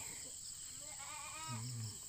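Faint goat bleats waver in the distance from a goat pen, one longer low bleat near the end, over a steady high insect whine.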